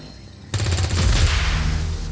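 Gunshot in XCOM 2 Long War of the Chosen during a sabotage mission: a sharp onset followed by a loud, sustained rumbling blast with dense low-end energy that holds for about a second and a half.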